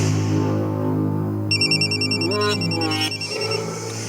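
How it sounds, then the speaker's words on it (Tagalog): A cellphone ringtone chimes in a repeating electronic pattern partway through, sounding clearly over a steady low background hum, with no talking. "may bagting ang cellphone ni Agaong Luis"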